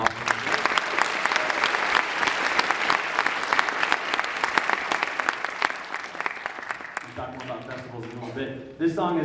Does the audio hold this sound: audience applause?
yes